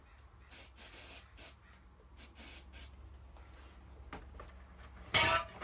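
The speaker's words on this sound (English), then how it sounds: "Put some brake cleaner here." Brake cleaner sprayed onto car brake parts during a rear brake job, several short sharp hissing bursts of varying length with pauses between, ending in a louder closer spray, faint clinks of metal around.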